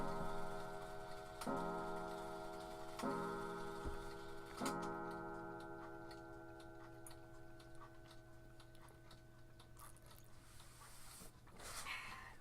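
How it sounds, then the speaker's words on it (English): A clock chimes at noon, its tones struck at a steady, unhurried pace with long ringing decay between strikes, indoors and fairly close, with quiet ticking and faint room noise around it. "Now I have to wait for the clock to finish chiming. 12 o'clock."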